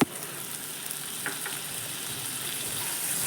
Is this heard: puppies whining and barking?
no